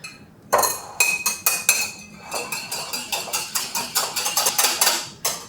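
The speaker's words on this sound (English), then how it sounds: "So, we are going to whisk everything together and go ahead and start with my eggs." Rapid metallic clinking of a whisk beating eggs against a bowl for buttermilk pie filling, a fast irregular rhythm of close, bright strikes with no talking.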